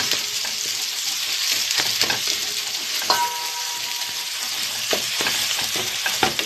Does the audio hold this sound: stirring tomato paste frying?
yes